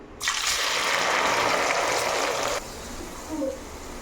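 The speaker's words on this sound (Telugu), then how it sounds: "ఆయిల్ బాయిల్డ్ అయింది మనకి. ఇలా కాకరకాయలు వేసేసుకుందాం." Pieces of bitter gourd drop into hot oil for frying, setting off a sudden loud, steady sizzle that drops sharply after about two seconds to a quieter hiss.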